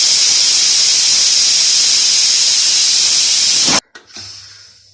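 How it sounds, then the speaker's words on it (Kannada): A pressure cooker cooking tomato bath whistles with a loud, steady hiss of escaping steam that cuts off abruptly, leaving a brief fading hiss afterward. "ನೋಡಿ ಈಗ ಕುಕ್ಕರ್ ಕೂಗ್ತಿದೆ,"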